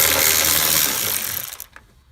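A 10mm socket ratchet clicks rapidly while unscrewing a bolt in the engine compartment of a 2004-2009 Toyota Prius Hybrid, a close, dense metallic whirr that fades out after a second and a half, with a few faint clicks after.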